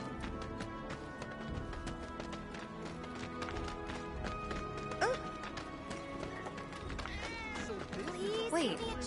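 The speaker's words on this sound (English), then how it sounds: "I think one of Betty's cats might be nearby." A cat meows in a Final Fantasy video game, giving a few short rising cries over clip-clopping footsteps and background game sound. Voices talk throughout.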